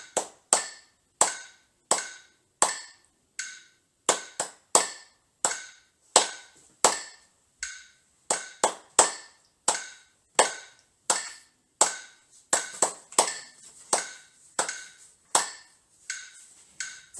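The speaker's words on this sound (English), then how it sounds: "So just remember that and clap with me" Hands clap in a steady rhythmic pattern, crisp individual claps repeating evenly for a long stretch, close and alone with no talking.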